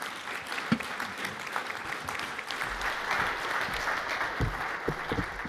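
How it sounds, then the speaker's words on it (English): Audience applause at the Co-op Congress, a sustained burst of many hands clapping, dense and fairly loud, holding steady throughout. "please give them a massive round of applause"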